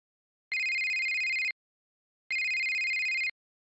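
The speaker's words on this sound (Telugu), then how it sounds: "ఈ టైంలో ఎవరో ఫోను?" A phone rings with two evenly spaced, one-second electronic tone bursts separated by a short pause. The tone is clear and steady, with no talking over it.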